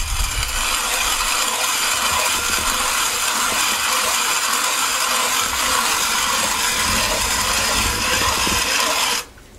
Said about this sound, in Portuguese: Deixa eu moer um pouco agora.